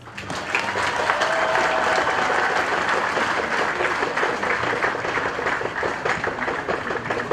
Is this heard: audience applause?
yes